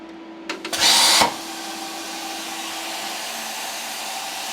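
A plasma cutter torch fires over steel box section on a cutting table: a few clicks, then a loud, harsh hissing burst lasting under a second, followed by a steady machine hum.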